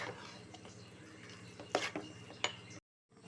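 Sweet pongal ingredients with crushed cardamom are stirred in a pot, a soft scraping broken by two sharper metallic clinks of the spoon against the rim before the sound cuts out.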